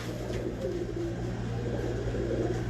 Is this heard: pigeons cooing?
yes